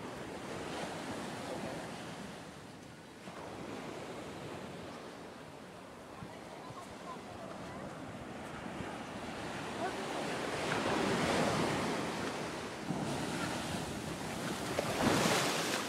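Ocean surf washes steadily onto a beach, with waves rolling in as a continuous roar that swells louder toward the end and wind buffeting the microphone.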